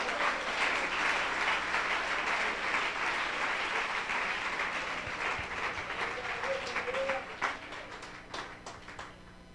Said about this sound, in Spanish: No sé si puede darle un aplauso al Señor